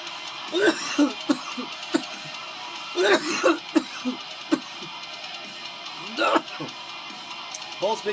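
A man coughs and clears his throat repeatedly in rough bursts spread unevenly across the span, close and fairly loud, with some speech mixed in between.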